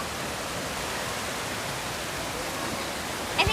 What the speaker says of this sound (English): There's some water down there.